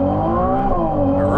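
A Ferrari 296 GTB on the Nürburgring roars loudly from inside the cabin, its engine holding a strong, steady tone that climbs in pitch near the end as it pulls hard.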